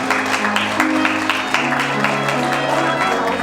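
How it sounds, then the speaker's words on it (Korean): Wedding guests at the AW Convention Center clap for the bride and groom after they bow to their mothers, moderately loud applause over steady background music. "다시 한번 큰 박수 부탁드리겠습니다."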